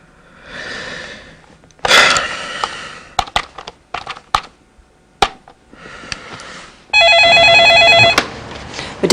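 A telephone rings in an office or hotel setting, with two loud electronic ring bursts separated by a pause, plus scattered clicks and brief bursts between them.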